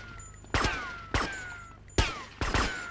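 Gunfire in the video game GTA Vice City: four sharp, loud shots in irregular succession, each a hard crack with a short ringing tail, over a low steady game hum.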